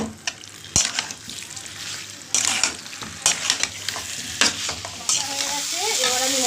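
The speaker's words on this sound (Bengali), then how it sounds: "এবার আমি এর মধ্যে খাসির চর্বিগুলো দিয়ে দেবো, দিয়ে আর একটু ভালো করে কষিয়ে নিই।" Goat fat sizzles in a pan as it is stirred, with loud, irregular scraping strokes and clatters over a steady frying hiss, bursts of sputtering between stirs, and no speech.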